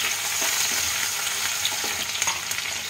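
Chopped onion and garlic sizzle in hot white or mustard oil in a pan, a steady dense crackle with occasional stirring scrapes, loud and close with no talking.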